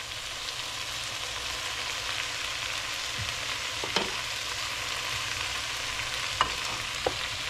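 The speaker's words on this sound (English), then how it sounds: "I'm gonna dump in the cabbage" Chicken spaghetti stir fry in a pan sizzles and fries steadily after cabbage goes in, a continuous close hiss with a few faint clinks and stirring knocks.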